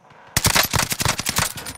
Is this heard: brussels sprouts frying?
no